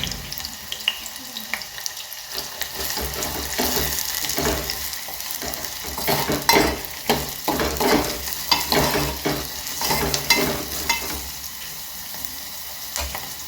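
Onion, green chili and coriander frying in a pan, a bright sizzle with repeated scraping stirs that come in bursts and grow busier midway, close up, no talk.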